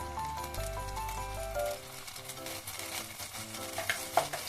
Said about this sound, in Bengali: এখন তেলের মধ্যে আমি প্রথমে 1 চামচ আদা রসুনের পেস্ট দিয়ে দিচ্ছি